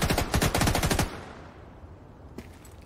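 Rapid automatic gunfire in The Division 2 video game, a loud burst of fast repeated shots lasting about a second, followed by a fading tail and one faint later pop.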